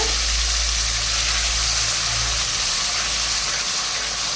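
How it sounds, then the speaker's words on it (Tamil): Tomato pickle is added to a hot pan and sizzles with a steady, loud, hissing fry that holds without pause. "நம்ம ஆல்ரெடி நம்ம வதக்கி வச்சுருந்த ஊறுகாயை தக்காளி ஊறுகாயை இதிலே சேர்த்துடுறாங்க"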